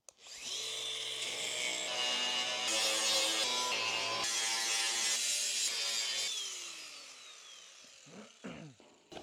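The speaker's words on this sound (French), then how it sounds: "je vais juste meuler toutes les soudures qu'on avait déjà faites pour pouvoir refaire mes chanfreins" Angle grinder grinding down welds on a metal jet boat part, a loud continuous whine lasting several seconds with shifting pitch as it bites the metal, then spinning down and stopping, close and alone.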